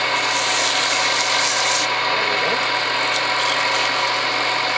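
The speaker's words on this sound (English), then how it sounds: "we're going to file that tenon down a little bit." A file works down the tenon of a wooden pen blank, making a continuous rough rasping scrape at close range with no pauses.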